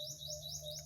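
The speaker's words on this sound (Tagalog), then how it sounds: "natutuwa yung mga ibon." Birds chirp in repeated thin, high rising tweets at a steady rhythm, faint and somewhat distant, over a low background hum.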